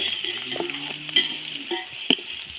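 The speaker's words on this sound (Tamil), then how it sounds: "பெரிய வெங்காயம் சேர்த்துக்கலாம்" Sliced onions and green chillies frying in a pan for mushroom biryani, stirred with steady scraping strokes over a continuous close sizzle, with a few sharper utensil knocks near the end.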